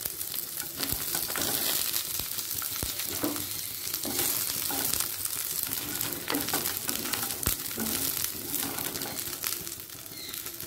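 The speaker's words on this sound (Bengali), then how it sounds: "এই তেলেতে আমি সবজিগুলো ভাজতে ভাজতে সেদ্ধ করে নেব। সবার প্রথমে আমি ফুলকপিটা দিয়ে" Cauliflower fries in hot oil in a kadai, a continuous dense sizzle with crackling spits and occasional stirring clinks, close and steady with no voice heard.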